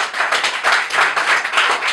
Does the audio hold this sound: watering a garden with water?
no